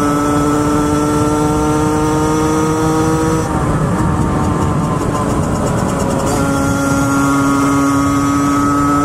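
A Derbi GPR 50cc motorcycle fitted with a Conti exhaust being ridden, its small two-stroke engine buzzing loud and close at high revs, pitch dropping briefly as throttle eases before climbing again.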